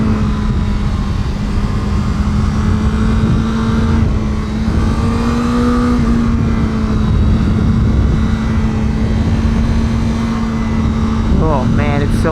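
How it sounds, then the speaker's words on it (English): A 2021 Honda CBR1000RR-R Fireblade SP superbike pulls hard with its exhaust opened up, a loud sustained engine drone holding steady pitch before a brief rising surge near the end. "once that exhaust opens up, this thing has so much juice, it's absolutely crazy"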